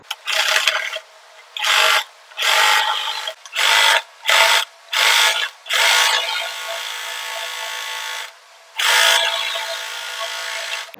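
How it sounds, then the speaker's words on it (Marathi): A sewing machine stitches an umbrella dress in a run of loud, close whirring bursts, some short and some longer, separated by brief pauses, with no talking. "आता मी इथे स्टिच करून घेणार आहे आणि फिटिंग मारून घेणार आहे."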